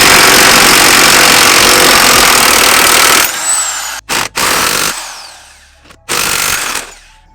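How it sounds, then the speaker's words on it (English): A power tool whirs loudly and continuously while removing a suspension arm bolt on a BMW M3/M4, then cuts in and out in several short bursts separated by near silence. "So let me go ahead and remove that bolt right now."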